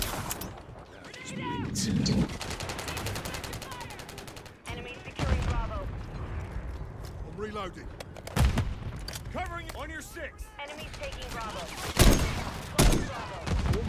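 Gunfire in the Call of Duty MW3 beta: rapid automatic bursts and sharp single shots crack through a busy firefight, some loud and close, while voices talk over the action.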